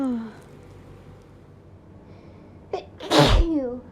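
A single sharp hay fever sneeze bursts out near the end, preceded by a faint short inhale and a quiet room, with a brief voiced trail after it.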